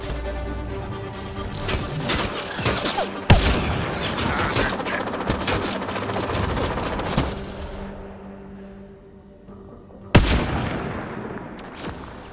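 Rapid bursts of gunfire in the video game Mass Effect Andromeda, with heavy booms and loud sharp cracks, dense at first, then easing before a final sharp blast.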